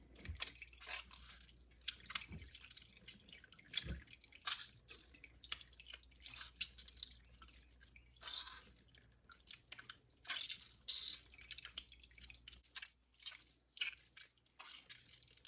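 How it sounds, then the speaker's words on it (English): Whey drips and trickles from mozzarella cheese curd being worked by hand over a pot, giving scattered wet drips and soft squishes that come close and fairly quiet, with no talk. "See how I'm still getting a lot of whey out of it."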